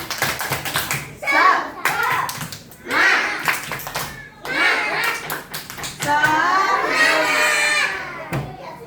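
Kindergarten children perform the tepuk semangat clapping chant in class, bursts of rhythmic hand claps alternating with chanted voices, loud and close.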